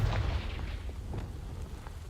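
A Confringo fire spell bursts in the Hogwarts Legacy video game, a faint, low booming eruption that rumbles briefly and fades into a quiet hum.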